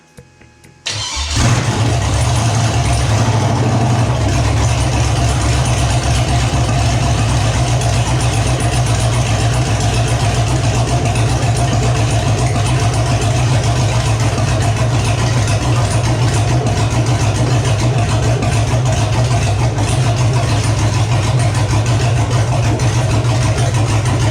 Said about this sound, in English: Do we try it on an engine? Let's see if she makes noise now.